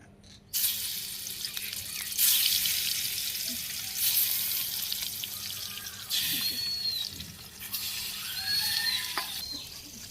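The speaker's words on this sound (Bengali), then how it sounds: "তেল গরম হয়ে গেছে, মাছগুলা দিয়ে দিই।" Fish frying in hot oil on a homemade clay stove in a Bangladeshi village kitchen: a bright, steady hiss that starts abruptly after a quiet moment and swells in waves, with faint clinks.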